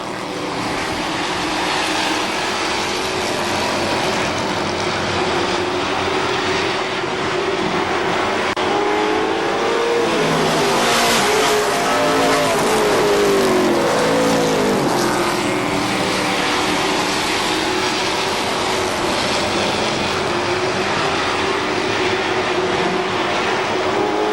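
Legends race cars at KilKare Speedway make a loud, dense, continuous engine roar that swells briefly around the middle as the pack passes close, with no talk over it.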